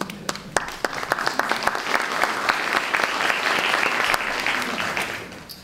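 An audience breaks into applause, a dense, building patter of many hands clapping that swells and holds before starting to fade.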